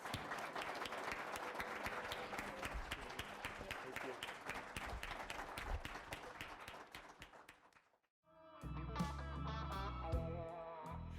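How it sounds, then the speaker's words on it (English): Audience applause closing a Chamber of Commerce conversation: a sustained crowd of clapping that gradually fades to near silence, after which music starts up. "A huge round of applause."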